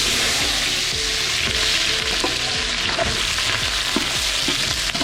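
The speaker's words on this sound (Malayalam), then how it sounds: "ഇതൊന്ന് നല്ലോണം വഴറ്റിയെടുക്കണം ഉള്ളി കേട്ടോ" Onions sauté in a hot pan with a loud, constant sizzle, broken by soft scraping as they are stirred.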